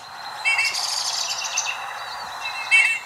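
A bullfinch gives soft, piping calls, two brief clear notes heard close, one early and one near the end, over a steady quiet background hiss.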